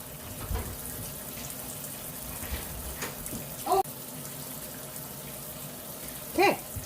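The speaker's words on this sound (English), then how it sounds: "we got hot water going" Hot water runs steadily into a sink with a soft rushing hiss, broken by two brief squeaky clinks of something being handled.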